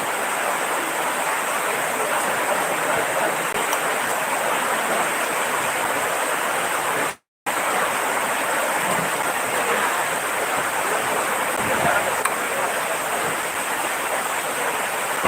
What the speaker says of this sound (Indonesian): hujan di sini di daerah Bekasi, Jawa Barat, Bekasi.